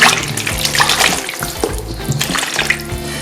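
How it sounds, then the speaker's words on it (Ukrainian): Cold filtered water pours from a half-litre jar into a glass jar of apples, a steady close splashing and gurgling stream running continuously with no talk. "Я набрала пол-літрової банки води холодної з-під фільтра. Заливаю сюди в яблука."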